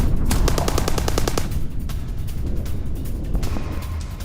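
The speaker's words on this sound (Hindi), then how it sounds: "हिजबुल्लाह के पोस्ट पर इजराइल डिफेंस फोर्स की फायरिंग" Israel Defense Forces gunfire in an attack on a Hezbollah post in Lebanon rattles out in rapid automatic bursts, loud and close at first, then gives way to a rumbling, noisy din with a later burst.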